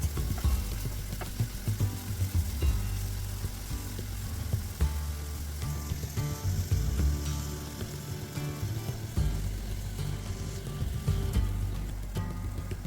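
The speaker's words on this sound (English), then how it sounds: "add the carrots to the frying pan, and again use more oil as needed to fry them" Continuous sizzling and crackling of carrots frying in oil in a pan, close up, with occasional stirring scrapes and no talking.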